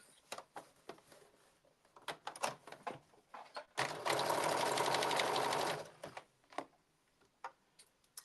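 A domestic sewing machine stitches a blazer dart closed in one sustained, loud run of about two seconds, framed by light ticking clicks and fabric handling before and after.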